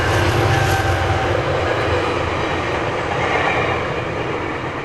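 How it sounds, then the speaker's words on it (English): A train passes loud and close by a suburban front yard, its broad steady rumble and rail clatter holding for several seconds before easing slightly at the end. "Train."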